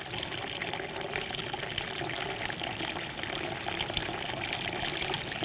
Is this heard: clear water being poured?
yes